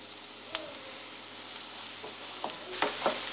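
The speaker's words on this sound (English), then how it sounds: "Just keep stirring that as it's cooking so that you get all the mince meats browned off nicely" Mince meat browning in a hot pan for a bolognese, a soft continuous sizzle broken by a few scrapes and taps of a spoon as it is stirred, close and fairly quiet with no talk.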